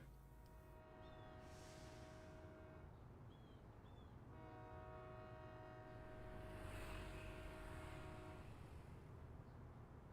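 Diesel HST train horn in Train Sim World 5, two long sustained blasts with a short break between, loud and close over a steady rumbling engine and rail noise.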